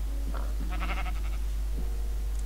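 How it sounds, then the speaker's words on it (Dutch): Minecraft sheep bleating in two short wavering calls near the start, then quiet with only faint background hum, no talk. "Stomme schaap, ga weg."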